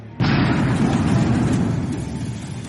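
A distant volcanic eruption boom rolls in like thunder, starting with a sudden onset and then settling into a long, low rumble that slowly fades, with no voices.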